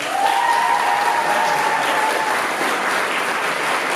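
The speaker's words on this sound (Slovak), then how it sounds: "Poprosím potlesk pre Avladiu." Audience applause at a school event, sustained dense clapping from a large crowd lasting the whole stretch at fairly loud, even volume.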